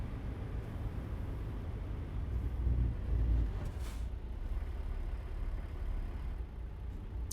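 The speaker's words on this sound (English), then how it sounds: "This truck sounds good though." Truck engine in a driving video game, a steady low rumbling hum that swells briefly as it revs, then settles back to an even drone, moderately quiet with no talking.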